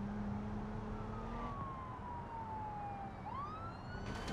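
A military police car siren in the driving game BeamNG.drive wails with long sweeping tones over a steady engine rumble, with no talking.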